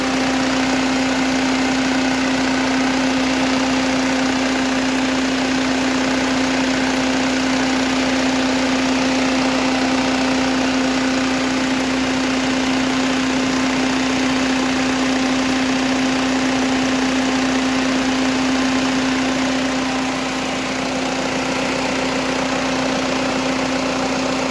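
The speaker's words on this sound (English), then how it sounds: "it's better to rev the engine" BMW E46 320d diesel idling steadily with a constant hum and a bright whine on top, loud and close, unchanged for the whole stretch.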